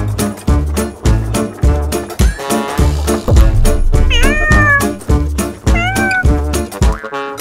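Cats meowing loudly over a steady, bouncy musical beat, with several drawn-out, rising meows repeating in the middle and toward the end.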